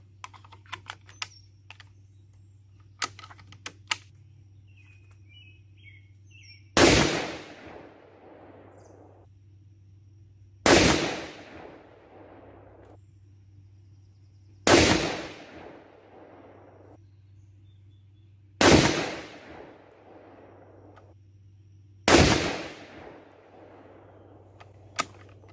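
Five 6.5 Creedmoor rifle shots fired at a 100-yard target, each a sharp loud crack with a short decaying tail, spaced about four seconds apart over a low steady hum, preceded by faint clicks and handling noises.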